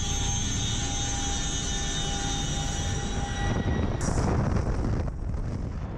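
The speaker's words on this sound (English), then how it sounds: "as soon as the paratroopers jump out of the aircraft" A military aircraft dropping paratroopers, heard as a loud, steady engine roar with a droning whine and wind buffeting close to the microphone, with no talk.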